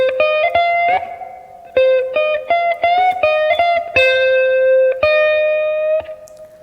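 Loud, clean electric guitar solo, with sharp picked notes, bends and vibrato, some short repeated phrases and longer ringing held notes with a reverberant tail.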